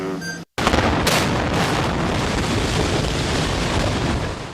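The Supertech twin towers are brought down in a controlled demolition explosion: after a brief tone and a moment of silence, a loud blast erupts into a sustained, heavy roar of collapse and rumble.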